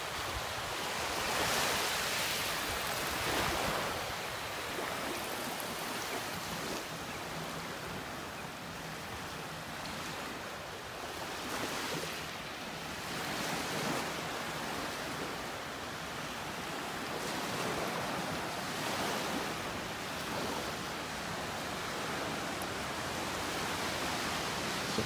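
Ocean waves roll onto a beach in North Naples, Florida, a steady broad wash of surf with gentle swells and some wind, continuous and alone for the whole stretch.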